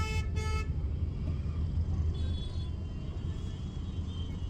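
A car horn blares briefly at the start over a steady, dense roar of road traffic near a DMart store gate that continues throughout.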